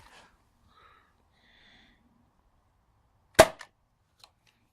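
Nerf Rival Kronos XVII-500 pistol fired outdoors in a backyard, a single sharp close pop that snaps out of near silence, followed by faint clicks and a tiny rattle afterward.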